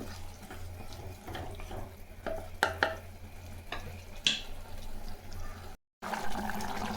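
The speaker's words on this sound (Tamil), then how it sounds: "காய் நல்லா கொதிக்குது பாருங்கள்" A pot of curry with vegetables bubbling and simmering up close, with a steady wet hiss and occasional sharp clinks of a utensil against the pot.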